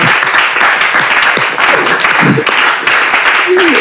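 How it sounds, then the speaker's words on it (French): An audience applauds warmly at a French-language gathering, with dense, sustained clapping that stays loud and close throughout, and a few voices rise briefly over it. "Est-ce qu'on peut applaudir?"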